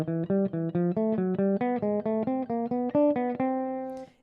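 Guitar picks out pairs of thirds, each preceded by a half-step lead-in note, in a steady plucked rhythm of distinct note groups, close and clear, ending on a sustained ringing pair.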